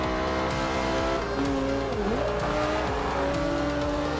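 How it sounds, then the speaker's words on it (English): Lamborghini Huracan in Forza Horizon 2, a loud continuous engine note that dips and climbs in pitch through gear changes, with a brief tire squeal in the middle. "Listen to the amazing Lamborghini Huracan."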